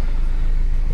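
Steady engine and road rumble from a Honda HR-V e:HEV hybrid on a test drive, a loud continuous low drone with no break over one short second.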